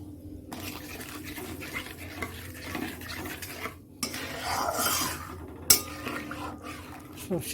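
Quiet stirring and scraping of a spoon through an egg mixture with mustard in a pan, soft intermittent strokes and light clinks close by, with occasional brief speech.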